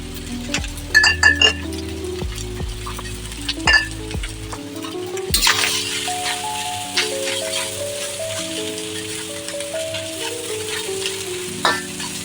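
Chicken fried rice with chilli sauce, tomato ketchup, oyster sauce and soy sauce stir-fried in a pan, a loud steady sizzle with repeated metallic clinks and scrapes of the spatula over a tonal background hum.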